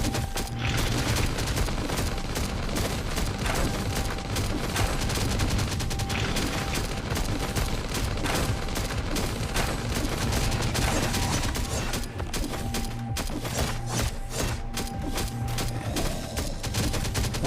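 Dense gunfire in the survival video game Last Day on Earth: Survival, with rapid automatic bursts and shots that overlap almost without pause and stay loud and close throughout.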